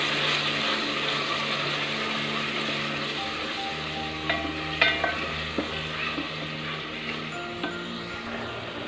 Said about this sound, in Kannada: ಸೊ ಇದನ್ನು ಆ್ಯಡ್ ಮಾಡಿಕೊಂಡು ಸಾಲ್ಟ್ನ ಹಾಕ್ಕೊಂಡು ನೀಟಾಗಿ ಒಂದು 5 ಮಿನಿಟ್ಸು ಫ್ರೈ ಮಾಡ್ಕೊಬೇಕು